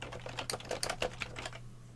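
Quick clicks come from a computer keyboard as a tool name is typed in a quick burst of keystrokes, close and fairly quiet over a low hum, then stop.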